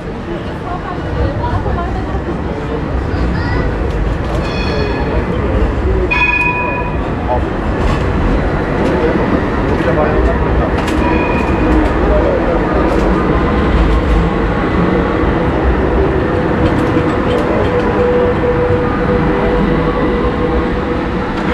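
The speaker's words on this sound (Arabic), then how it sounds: "خلي بالك وانت ماشي في الشارع هنا من الترام" A tram rolls along a street in Istanbul, passing right beside the pavement, with a loud, sustained rumble of rail wheels, a few high squeals and clicks, and someone talking throughout amid street bustle.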